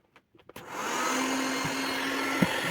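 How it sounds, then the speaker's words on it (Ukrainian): A steady whooshing hair dryer hum switches on after a few clicks and runs continuously at close range, heating a Hyundai Accent headlight. "От 5-30 хвилин тримаємо включеним феном"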